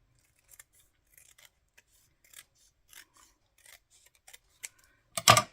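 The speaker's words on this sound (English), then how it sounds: "Make sure this is trimmed up properly." Scissors trim paper at a desk in short, quiet snips spread sparsely across a near-silent background, ending with one louder, sharper cut.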